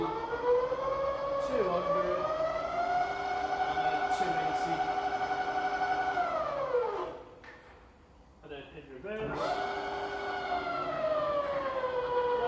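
A Bridgeport milling machine spindle runs with a steady tonal whine that rises and falls as it shifts between speeds, briefly winding down almost to silence before spinning back up, loud and close.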